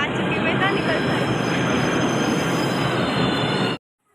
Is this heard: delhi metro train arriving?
yes